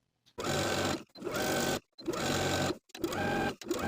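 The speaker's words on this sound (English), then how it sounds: "Then we can edge stitch close to the finishing stitches all the way around both pant legs." A sewing machine edge-stitches around the hems of pant legs in four quick bursts of rapid whirring, separated by short pauses, close and clear with no talking.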